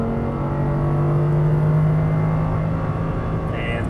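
An Audi R8 accelerating hard out of a corner on a race track gives a steady, loud engine drone that holds a strong even pitch throughout, close and continuous with no pauses.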